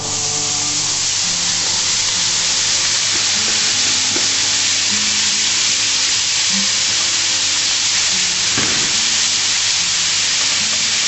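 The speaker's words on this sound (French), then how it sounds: "Donc là je balance mes lardons." Lardons fry in a pan, a loud, dense sizzle and hiss that runs steadily, with a brief burst of sharper crackling partway through.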